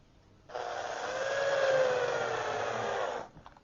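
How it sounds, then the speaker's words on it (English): Power driver running a pan head screw into a wooden arched cabinet door, one sustained close whir lasting about three seconds that rises slightly in pitch as it tightens, then stops abruptly. "using my pan head screws, put one in just like so."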